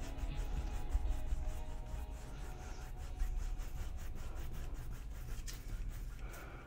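A paintbrush rubs and drags back and forth over canvas, blending acrylic colours with firm pressure, a steady close scratchy brushing texture with no talking.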